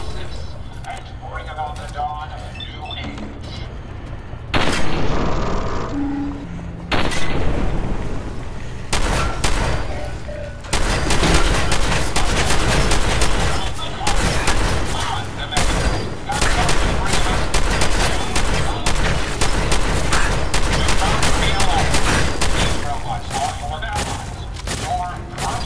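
Gunfire in Fallout 4 aimed at the player, with repeated loud volleys of shots and bursts from about five seconds onward, sustained and dense, with a voice talking over the shooting.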